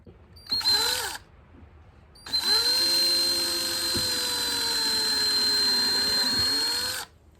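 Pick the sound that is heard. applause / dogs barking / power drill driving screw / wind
power drill driving screw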